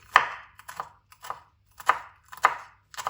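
A knife chops through a rolled potato mixture on a board for aloo tikki, five or six distinct thuds at an uneven pace with short gaps of silence between them.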